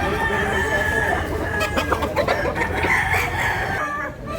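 Roosters at a bird sale in Consolacion, Cebu crow and cluck steadily near the listener, a long drawn crow running through a busy yard of other birds and low background chatter.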